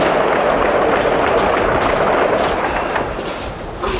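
Constant booming and crackling gunfire with distant explosions fills a Bosnian war zone at Grbavica, a dense, loud rumble of artillery and shots that eases slightly toward the end, with no voices.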